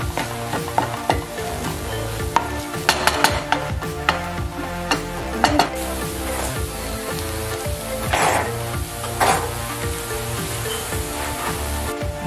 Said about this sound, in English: the onions, the garlic, the ginger, the pepper is on the stove and is simmering